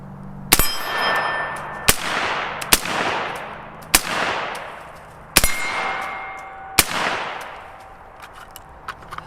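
5.56 rifle rounds fired from an AR with a 16-inch barrel strike a steel target, six sharp loud shots each followed by a ringing metallic clang that decays, spaced unevenly outdoors with no talking.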